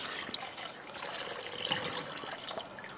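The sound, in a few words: coconut milk being poured into simmering stock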